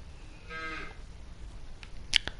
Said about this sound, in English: we've actually got cows in our pasture area